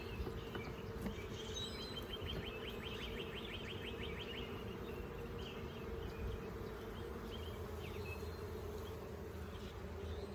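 Dense, continuous buzzing of many honeybees close by, a steady drone with occasional higher whines of individual bees passing near.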